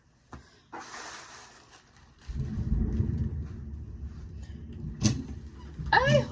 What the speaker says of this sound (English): I hope you guys just heard that crash of thunder.